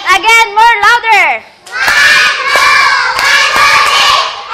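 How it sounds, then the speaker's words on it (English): Young children in an English-language early-childhood class chant a counting rhythm together, then break into excited shouting with sharp claps on the beat, loud and close, voices dominating over the clapping. "let's give excellent clap to yourself"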